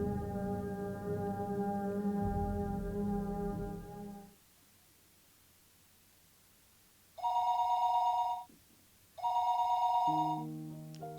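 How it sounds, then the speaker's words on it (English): Old-style telephone ringing downstairs in a house: a long bell tone, a pause, then two shorter rings in succession, loud and clear. "phone rang noisily downstairs"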